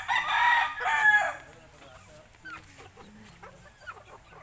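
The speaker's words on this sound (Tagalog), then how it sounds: "Asan yung manok natin?" A rooster crows loudly and close for about a second, followed by soft scattered clucking from chickens in a rural yard, with quiet background sounds.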